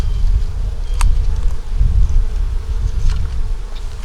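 Honey bees buzz loudly and continuously around an open hive that had swarmed, a dense close drone with a few brief louder passes.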